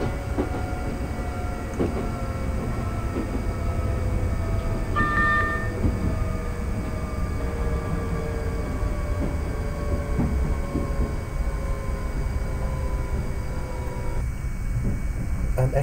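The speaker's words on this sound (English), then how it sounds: "The train drives completely by itself." A London Underground Northern Line train running between stations, with a steady loud rumble of wheels on rails, rising and falling motor whine, and occasional clicks, heard from inside the cab.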